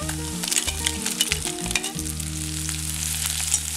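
Cooked crab and sautéed onions frying together in a pan for a Kerala toddy-shop style crab fry, with steady close sizzling throughout, plus a few stirring scrapes early on.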